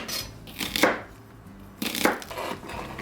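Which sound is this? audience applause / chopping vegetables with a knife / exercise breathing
chopping vegetables with a knife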